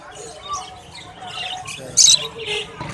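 A cream cockatiel at a bird market gives a sharp, loud squawk partway through, with fainter chirps and market voices murmuring in the background.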